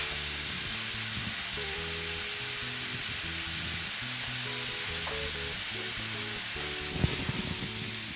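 Beef short ribs browning in their grease in a pan, a steady loud sizzling hiss with low rumbling undertones running throughout, close by, and a brief clatter near the end, no speech.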